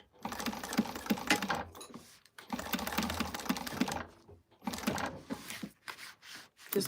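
A sewing machine stitches in three fast, rattling bursts separated by short pauses, sounding close and clear with no one speaking.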